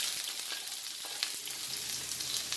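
Scallion frying in a hot pan for ackee and saltfish, with a close, steady, bright sizzle and light crackling throughout.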